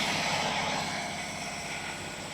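A truck engine's cooling fan runs in a steady, loud rushing roar with a fine pulsing flutter, continuous and close throughout.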